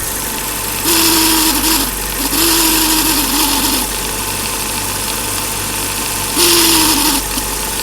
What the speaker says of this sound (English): The distributor's making noise again too.